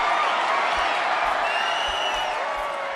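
WWE 2K22 Hell in a Cell arena crowd roars steadily in a loud, sustained wash of cheering and whooping, broad and distant-sounding with no pauses.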